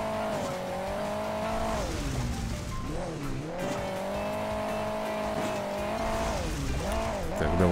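Rally car racing in Hill Climb Racing 2, the engine droning steadily with pitch swoops as it revs and eases off over bumps, with tire noise along the way.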